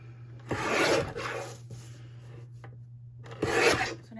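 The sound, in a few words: Swingline paper trimmer cutting paper edges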